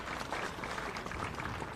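Steady crowd applause at a pickleball tournament, a dense, even patter of clapping from many spectators filling the whole short moment, moderately loud and slightly distant.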